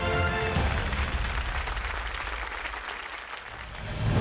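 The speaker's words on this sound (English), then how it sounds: "Give a round of applause for all our top 15 finalists." Audience applause for the top 15 finalists at a Miss India beauty pageant, a dense, steady clapping from a large crowd that holds throughout and swells slightly again at the end.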